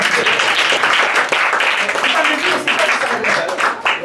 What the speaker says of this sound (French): Ok, on applaudit, on applaudit.